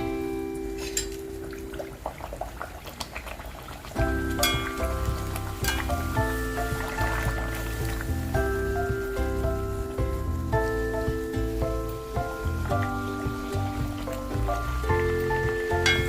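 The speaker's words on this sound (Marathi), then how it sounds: "हे तेल गरम करून घेतलंय आता पुऱ्या तळूया" Spicy red pumpkin puris fry in hot oil with a steady, rain-like crackle and bubbling that is partly masked by prominent background music throughout.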